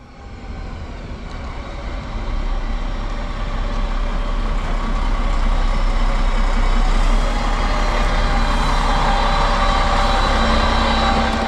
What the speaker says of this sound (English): we can also take a look at the arrival of my train, which is a RegioShuttle of Deutsche Bahn